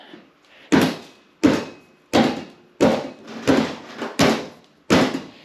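A dead blow hammer strikes a snowmobile rear axle seven times, each blow a close, solid knock at a steady, unhurried pace with short quiet gaps between them.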